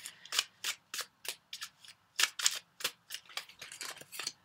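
Shadowscapes tarot cards drawn one after another from the deck, a run of crisp papery slides and flicks in quick irregular succession, close and fairly quiet with no talking.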